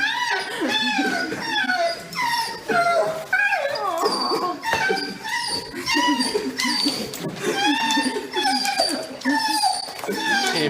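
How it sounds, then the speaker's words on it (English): A dog whimpers, yips and howls excitedly on greeting its owner back from nine months of military training, a continuous stream of high, wavering cries, close and loud. "A dog is completely shocked when his best friend suddenly reappears after being gone for 9 months of military training."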